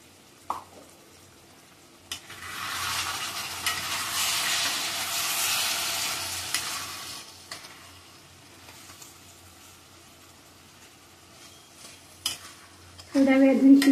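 White onion sabzi sizzles in a pan on a low flame while a spoon stirs through it, a soft continuous hiss swelling in the middle and easing off, with a few clinks of utensil against the pan.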